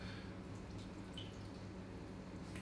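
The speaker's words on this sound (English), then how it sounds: "Just add some oat milk." Oat milk poured onto about 50 grams of dry oats, a short, faint liquid trickle with light dripping over steady low background hum.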